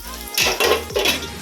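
Food frying in a pan in a home kitchen, three loud sizzling bursts as the food is stirred or turned, with faint utensil scraping between them and no voices.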